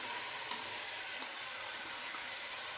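Chopped tomatoes and green chillies sizzling and frying in a pan with ginger-garlic paste for chicken korma, a steady hiss of frying with faint stirring scrapes, no talking.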